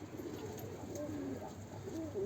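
Captured pigeons coo softly in low, rolling phrases, several overlapping calls repeating close by over a steady background hiss.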